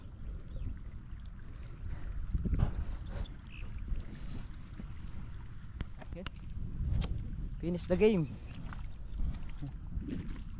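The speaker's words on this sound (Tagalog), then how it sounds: "Patayin ko lang yung makina." A diesel irrigation water pump engine drones steadily throughout, with water splashing onto plants and a voice speaking briefly over the noise.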